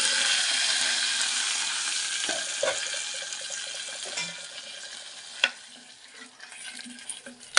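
Whole dry field beans tip into a pressure cooker with garlic, greens and dried red chillies for sambar, giving a steady close sizzle with stirring and a few sharp clatters, no voices over it.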